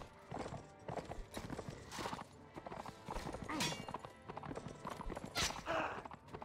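Horses gallop through a Mount and Blade Warband battle, a steady clip-clop of hooves with an occasional whinny amid the clatter of combat, fairly loud and continuous.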